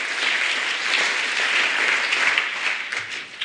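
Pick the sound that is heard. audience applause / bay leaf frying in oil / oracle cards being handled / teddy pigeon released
audience applause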